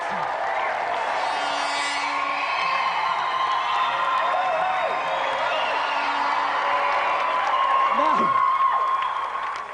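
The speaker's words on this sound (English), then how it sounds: "Round incredible. of applause for Rod Rambo-Lynette." Studio audience applauding and cheering for an arm wrestler on a game show, a steady wash of clapping with scattered whoops lasting throughout, fairly loud and continuous.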